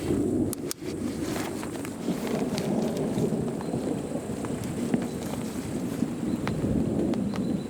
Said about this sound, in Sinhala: මෙහෙටත් වහින.